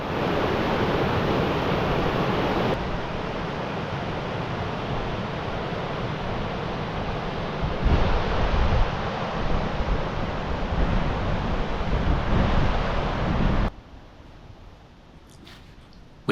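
River Wharfe rushing near Ghaistrill's Strid where the wide river narrows, a steady broadband roar of flowing water with wind buffeting the microphone, loud until it suddenly drops away near the end.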